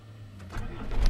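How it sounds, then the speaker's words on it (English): A cold Land Rover Discovery diesel engine running on waste vegetable oil cranks and catches, rising from a quiet hum into a louder, rough mechanical burst near the end, close by with no talk. "and we start the engine."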